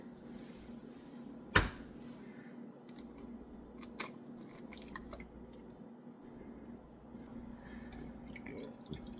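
Two large eggs are cracked into a medium mixing bowl for French toast. A sharp crack lands first, then a few softer taps, wet squishes and drips follow close by in a quiet room.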